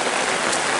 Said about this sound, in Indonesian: Aduh, hujan tuh.